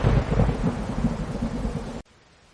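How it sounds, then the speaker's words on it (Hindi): Storm thunder rumbles loudly in a dense, rolling roar with rain and gusting wind mixed in, then cuts off abruptly to near silence. "चारों तरफ काला अंधेरा और तेज बादल का कड़कना और भी डरावना लग रहा था।"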